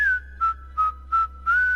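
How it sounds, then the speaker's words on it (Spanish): A single whistled tune of about five short clear notes, the first held longer, then evenly spaced steady tones with brief gaps, close and alone over a faint low hum. "al menos aprendimos a silbar"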